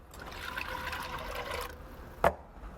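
Low-sodium chicken stock and water poured into a large soup pot, a steady liquid trickle and splash running for over a second before a brief sharp knock near the end.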